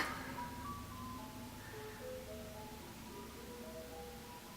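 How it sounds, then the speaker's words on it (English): An ice cream truck's melodic jingle plays faintly and steadily, its simple tune of sustained tones drifting over a constant low background rumble. "The ice cream truck."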